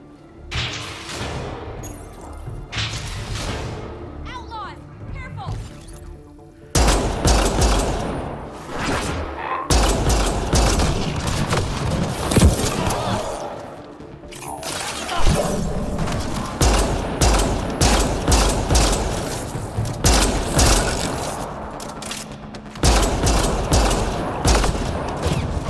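Outlaws open fire in the sci-fi shooter Mass Effect Andromeda, dense bursts of automatic gunfire and heavy impacts crashing in repeated loud volleys, with brief lulls and faint voices between the shooting.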